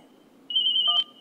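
A telephone rings indoors in a Hindi sitcom home scene: a single bright electronic trill starts abruptly, holds steady for about half a second and then cuts off, clear over faint low room hum.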